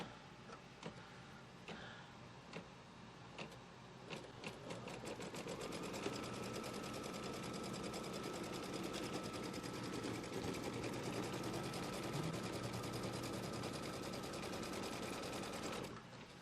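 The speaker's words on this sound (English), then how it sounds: "So now when we stitch this out, it's going to stitch a line from here over to here." An embroidery machine stitches a straight seam line across a Pumpkins & Potions quilt block, starting with a few scattered clicks before settling into a loud, steady, rapid needle rattle that runs on without pause until it stops abruptly.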